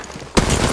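Gunfire in a video game breaks out abruptly as a loud, dense burst of rapid shots after a brief quiet lead-in.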